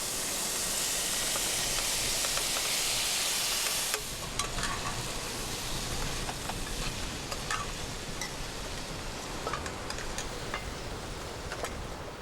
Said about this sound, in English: After the vegetable spice mix has been fried in vegetable oil, the drained ackee is added.